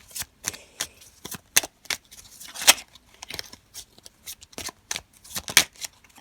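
Victorian oracle cards being shuffled by hand, a run of quick papery riffles and soft flicks with irregular rhythm, close and fairly quiet, with no voices.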